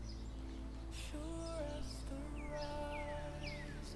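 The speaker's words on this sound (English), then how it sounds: "It's got the little bird sounds" Little bird chirps play from a campaign video, a few short descending calls and soft tweets, faint and thin over a low steady hum.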